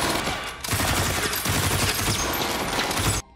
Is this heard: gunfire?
yes